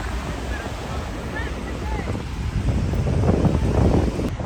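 Ocean waves roll and break on a Bali beach as a steady, broad roar, building slightly toward the end, mixed with wind buffeting the microphone and faint distant voices.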